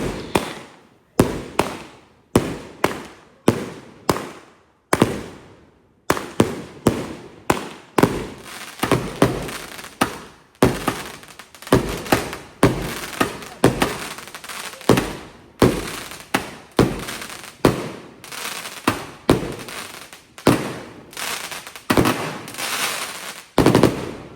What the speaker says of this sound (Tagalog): Nagsimula na silang magpa-fireworks dito sa labas